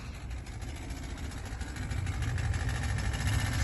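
An engine on a vessel at a wharf fires up and settles into a steady low idle that grows slightly louder and rougher toward the end, with no talk.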